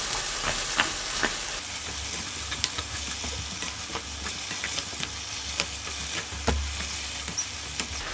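Fish cake with green onion and red and green chili peppers is stir-fried in a pan, giving a constant close sizzle with repeated scraping strokes and light clicks of the utensil against the pan, no voices.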